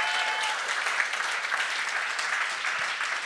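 A crowd applauds steadily during a live French-language podcast recording, dense even clapping filling the whole moment without any voices over it.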